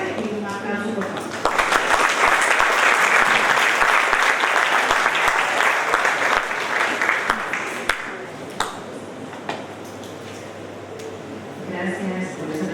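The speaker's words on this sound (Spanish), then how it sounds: "un aplauso por favor" An audience at an electoral law training session breaks into sustained applause that swells loudly for several seconds and then fades away, with a speaker's voice heard before and after.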